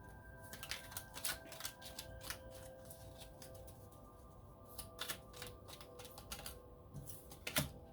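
Quiet, rapid papery flicks and soft clicks come in short flurries as tarot cards are shuffled close by, with no voices.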